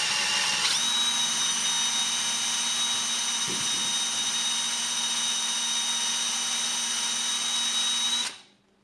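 A power drill bores the head off a rusty brake screw on a Micro scooter, whining at a high, steady pitch for about eight seconds, with a brief grinding scrape partway through, then spinning down and stopping.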